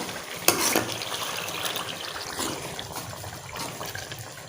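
Beef kadai sizzling and frying in a pan, with a steady bubbling crackle, a sharp burst near the start and occasional stirring sounds, close and fairly quiet.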